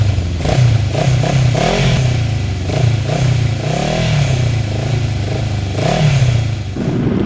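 A QJ Motor SRT 600 SX midsize trail motorcycle runs close by, its engine note rising and falling through repeated revs over a steady, loud mechanical drone, with no talking.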